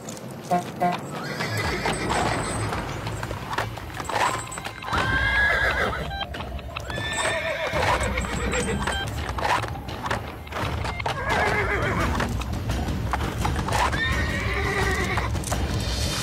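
A horse neighs loudly several times in a dramatic outdoor scene, with hooves clip-clopping and thudding throughout and a voice speaking at moments over the commotion.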